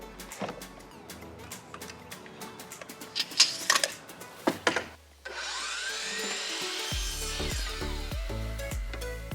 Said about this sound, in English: So let's go ahead and cut 3 pieces, 23 3/4 long.